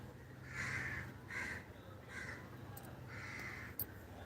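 Several crows caw overhead in loud, drawn-out calls repeating in a steady series, set against a constant outdoor background hum.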